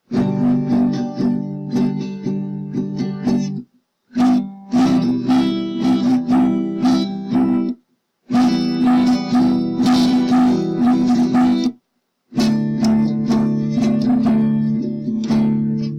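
An acoustic guitar strums a chord progression starting on G and passing through D, in a steady rhythm, changing chord every few seconds with brief gaps between changes, close and clear with no talking.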